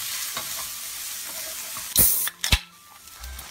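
Tofu going into a wok of hot oil with aromatics, a continuous close sizzle broken by a loud splashing hiss burst and a sharp clack from the pan, then settling back to a steady fry.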